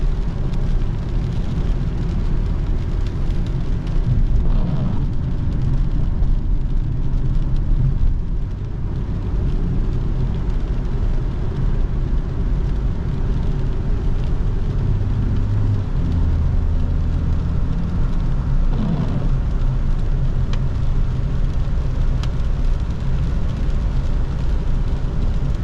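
A Nissan 370Z drives through rain with its engine humming low and steady under a constant wash of tyre spray and road noise, heard from inside the cabin.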